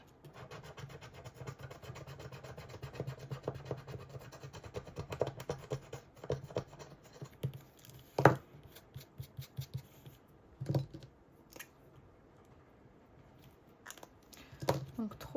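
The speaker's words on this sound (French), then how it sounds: "On va venir gratter." A scratch card is rubbed with a coin in close, steady scraping strokes that run for several seconds, then break into a few sharper scrapes and taps.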